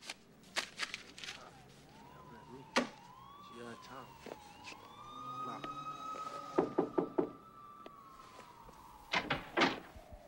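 Knocking on a door in a movie scene, a few sharp raps heard amid music with a rising siren-like tone and people talking.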